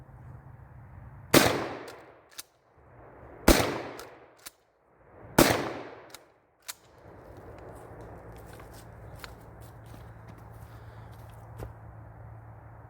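A handgun fires three loud, separated shots about two seconds apart, each a sharp crack with a short ringing tail, followed by a few faint clicks and a steady low outdoor hum.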